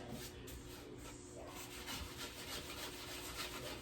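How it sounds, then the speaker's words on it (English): Utensil scraping smoked brisket loose from a stuck pan, a steady close rasping and rubbing that continues throughout at low level without talk. "So I'm kind of loosening it up off the pan."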